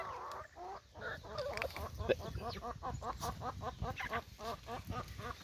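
A flock of ducks on a farm clucks and quacks in quick repeated calls, moderately close, with faint background noise.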